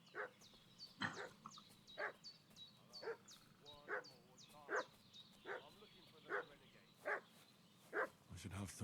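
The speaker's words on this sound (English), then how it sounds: "What's that dog making such a fuss about?" A dog barks in a village in the medieval game Kingdom Come: Deliverance 2, about eight evenly spaced barks roughly one second apart at moderate distance, with someone speaking over part of it and ambient birdsong.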